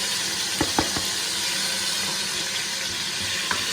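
Oil sizzling steadily in a pan while pulao is being cooked, a continuous close hiss with a few soft clinks of a utensil.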